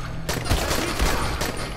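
Dense rifle gunfire from the video game Dying Light, a rapid fusillade of overlapping shots filling the whole short stretch, loud and close, with no speech.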